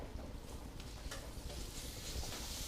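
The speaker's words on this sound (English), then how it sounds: "we got a frying pan heating up here. And we're going to throw in that ground beef" Soft, continuous sizzling of ground beef frying in a pan, faint and steady with occasional crackles.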